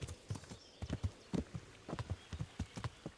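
Horse hooves clip-clop in a quick, steady rhythm in the video game Kingdom Come: Deliverance, a run of close hollow clops with no voices.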